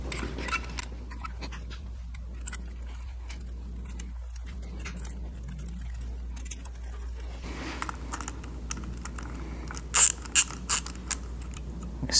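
Ratchet wrench tightening bolts on a Yamaha XS400 engine during a rebuild, with quiet mechanical clicking through most of the stretch and a few louder, sharper bursts of ratcheting near the end; no one speaks.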